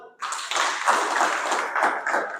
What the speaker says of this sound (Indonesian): Untuk itu kita beri aplaus tepuk tangan untuk kelompok 1.